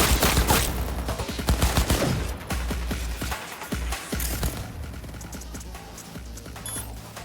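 Gunfire in Cyberpunk 2077, a dense rapid burst of near shots that thins out into scattered, fainter pops over a steady low hum.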